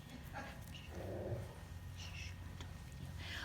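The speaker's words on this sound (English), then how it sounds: "we got somebody coming in the store and he is just barking" A dog barks and whimpers in short yips, fairly faint and distant, mixed with a little background talk.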